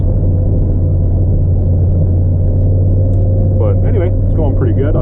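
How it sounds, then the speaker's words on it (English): A truck with a snow plow pushes snow on a first pass, a loud continuous low engine rumble close by, with talk over it near the end. "So I think I'm pushing a little more snow than I'm assuming on this first pass."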